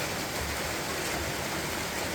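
Heavy Amazon rainfall in the Peruvian jungle, a dense, constant hiss of downpour, close and loud, with no voices.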